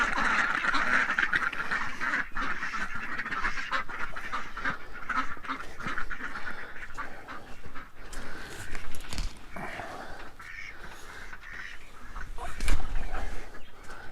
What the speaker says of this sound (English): Oh, muddy ducks.